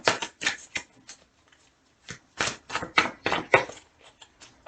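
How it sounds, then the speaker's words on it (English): Tarot cards are shuffled in quick bursts of riffling and slapping, two clusters separated by a brief pause, close and crisp with no talk. "going to shuffle 2 more times"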